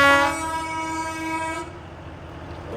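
A Slovak shunting locomotive sounds a loud, sustained horn blast that cuts off after about a second and a half, leaving its engine rumbling steadily nearby with no talk.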